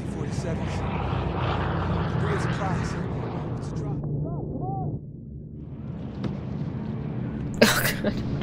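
C-47 propeller aircraft flying over in a TV series scene, a loud droning engine rumble that fades after a few seconds, with voices talking over it and a brief sharp noise near the end.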